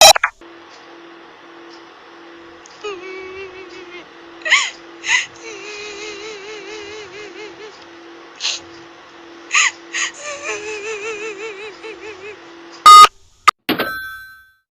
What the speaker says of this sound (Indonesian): Itu adalah suara setan menangis.